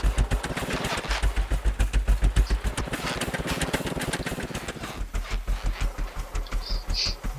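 A blocky stone tractor built in Scrap Mechanic runs its engine with a loud, fast, regular chugging pulse that holds steady throughout, with a brief high whine near the end.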